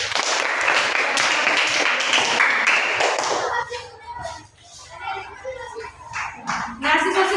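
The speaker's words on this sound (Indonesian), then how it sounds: "berikan tepuk tangan" Students in a classroom discussion give a burst of dense, lively clapping for about three and a half seconds, then it fades as voices speak and a few scattered taps follow.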